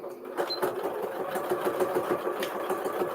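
A sewing machine stitches binding onto a quilt, a quick even run of mechanical needle clatter, close and fairly quiet, steady for a few seconds.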